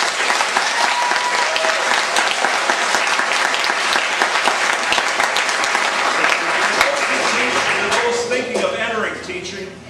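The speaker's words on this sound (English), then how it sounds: "A round of applause for Mr. Gorley." Sustained audience applause for Mr. Gorley at his retirement send-off, a dense, loud wash of many hands clapping throughout, easing off near the end with some voices emerging underneath.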